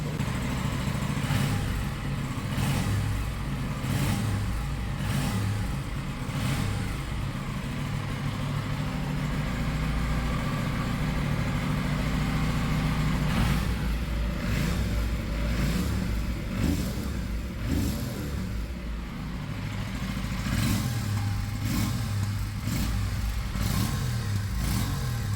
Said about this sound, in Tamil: இதுக்கப்புறம் நம்ம ரெவ் பண்ணலாம்